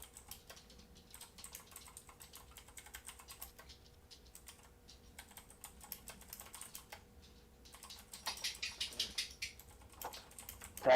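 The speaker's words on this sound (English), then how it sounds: "Tappity, tappity, clack, clack. Mechanical keyboards all around." Clacking keystrokes from mechanical keyboards rattle on in quick irregular bursts, fairly quiet and close, and grow denser and louder toward the end.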